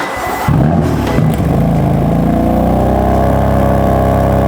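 A BMW M4's 3-litre straight-six, still cold and on a soft limiter, barks through a short blip and then holds a loud, steady high-revving drone close to the car.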